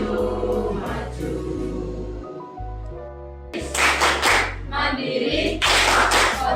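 A class claps along in bursts to a rhythmic school cheer during a lesson, with loud, closely spaced hand claps over steady chanted music and voices.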